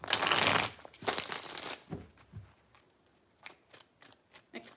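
Tarot cards are riffled and shuffled in a few loud, papery bursts at first, then quieter taps and flicks follow in an uneven rhythm.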